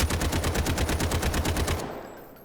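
Rapid automatic gunfire in the Delta Force video game, a fast even burst of about fifteen loud shots that stops abruptly, leaving a short fading tail.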